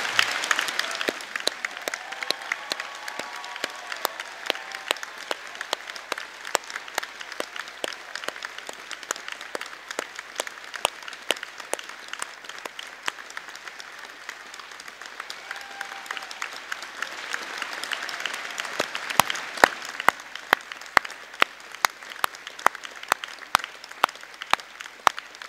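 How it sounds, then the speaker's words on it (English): An audience at a degree ceremony gives graduates a long round of applause, with distant crowd clapping throughout and sharper nearby claps standing out, swelling again near the end. "join me in giving them a final huge round of applause"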